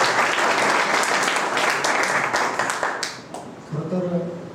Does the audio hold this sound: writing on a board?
no